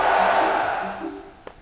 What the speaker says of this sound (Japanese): なんでいちいち歓声が上がってるんだ。